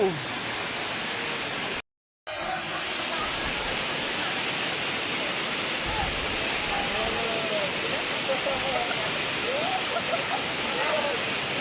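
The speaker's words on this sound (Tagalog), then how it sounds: "Kaunayang Falls." Kaunayan Falls in Aurora rushes in a steady, broadband roar of falling water throughout, cut by a brief dropout near the start, with faint voices occasionally audible beneath the constant wash.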